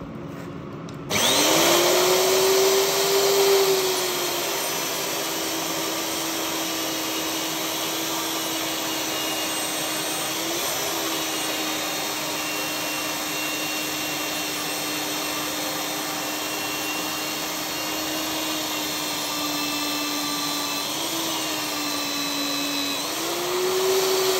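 A power drill whines steadily and loudly for over twenty seconds as it bores a hole in metal, its pitch dipping briefly as it bites, with no voices over it.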